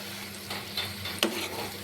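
Masala sautés in a pan for egg curry, a soft sizzle under a few scraping stirs and one sharp spoon tap, with no talking.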